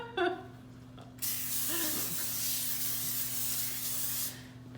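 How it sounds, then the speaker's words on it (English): A spray bottle hisses a steady mist onto a tray for about three seconds while turkey burgers are prepared in a home kitchen, loud and close after a few brief clicks, with a low electrical hum running underneath. "I'm actually gonna spray."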